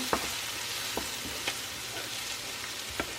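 Onion and red pepper frying over medium heat, a constant close sizzle with a few faint scraping stirs, and no talking.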